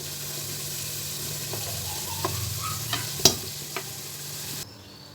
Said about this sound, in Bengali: এখন এগুলোকে আমি একটু লাল বর্ণ করে ভেজে নেব।